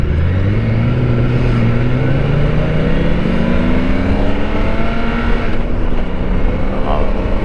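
Exhaust of a 2024 BMW K1600B motorcycle revving, a steady loud engine drone rising in pitch through the rev, heard up close with no other sounds over it.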